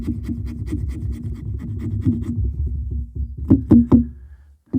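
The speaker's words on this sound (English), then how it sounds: "you get all these fine little shavings of this fatwood" A knife scrapes fine shavings off a piece of fatwood in repeated short, close rasping strokes, ending with a few sharper, louder scrapes before a brief silence.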